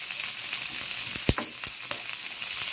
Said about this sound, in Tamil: அதே எண்ணெயில் இந்த மாதிரி பொடிசாக கட் பண்ணி வச்சுருக்க அவரைக்காயை ஆட் பண்ணிக்கலாம்.